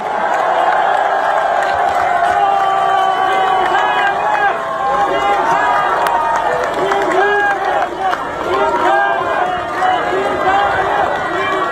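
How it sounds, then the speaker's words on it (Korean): A crowd at a Democratic Party gathering roars and cheers to welcome lawmaker Kim Sang-wook, a loud, sustained wash of cheering and whooping with voices mixed through it for the whole stretch. "박수로 환영해 주십시오."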